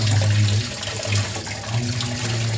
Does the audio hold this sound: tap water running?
yes